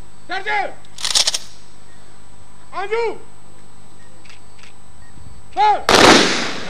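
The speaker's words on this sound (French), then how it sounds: "3 tirs de fusil, symbole de devoir, d'honneur et de patrie, ont été respectés en l'honneur de ces 8 soldats" Ceremonial rifle salute at Togolese military honours for eight soldiers: two sharp, loud shots, one early and one near the end, with a voice talking in the gaps between them.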